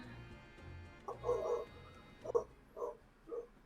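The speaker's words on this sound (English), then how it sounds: "It was the little lady, Lola. Oh, that was Lola? Yeah, she barks more." A small dog named Lola gives a few short, soft yips and barks spaced apart in a Great Ace Attorney 2 game scene, quiet against a low background.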